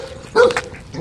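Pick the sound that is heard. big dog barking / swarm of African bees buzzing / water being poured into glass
big dog barking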